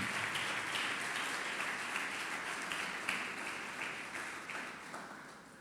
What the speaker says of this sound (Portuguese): Você pode aplaudir o Senhor por isso?